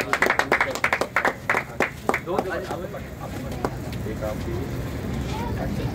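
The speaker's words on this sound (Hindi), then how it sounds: "ताली बजाइए जोर से" An audience in Bhilai claps loudly after a screening of the film Dunki, with sharp bursts of applause that fade into a busy crowd murmur and voices.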